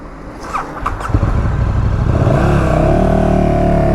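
A KTM 1290 Super Duke motorcycle pulls away in fifth gear, its engine note climbing and swelling loudly after a second of rough clatter, then holding a strong, steady drone.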